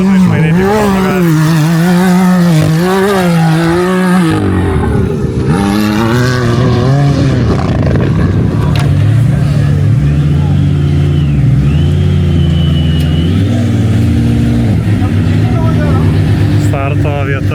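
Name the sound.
dune buggy engines at Abu Dhabi desert challenge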